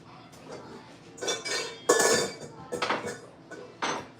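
Apple turnover filling of apples, sugar and cinnamon being stirred in a bowl, several loud clinking and scraping strokes of a utensil against the dish in bursts, close up, no talk.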